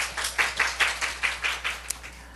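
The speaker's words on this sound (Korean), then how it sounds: "우리 하나님께 박수 올려드려요" A church congregation in Seoul claps in unison during a Monday morning worship service, a quick, regular train of about eight sharp beats, fairly close and clear, with no talk over it.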